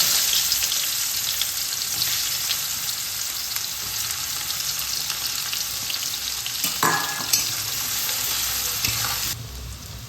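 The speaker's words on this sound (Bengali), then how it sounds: "মাছ ভাজার তেলে ফোড়নে দিয়ে দিচ্ছি একটা শুকনো লঙ্কা, হাফ চামচ কালো জিরে," Chopped onions with dried red chilli and nigella seeds frying in leftover fish-frying oil for a Bengali bata fish curry, a steady close sizzle with occasional stirring scrapes of the pan.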